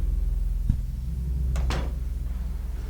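A door in Silent Hill 3 opens with a soft thud followed by two quick scraping clacks of the mechanism, close and distinct over a steady low droning ambience.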